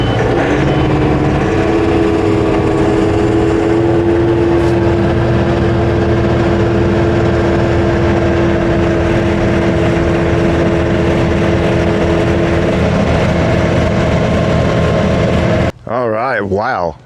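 A lawn verticutter's engine runs loud and steady while cutting into a Kentucky bluegrass lawn, a constant droning rumble with a sustained tone that stops abruptly near the end.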